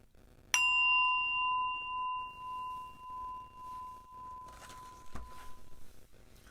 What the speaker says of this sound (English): Closing bell.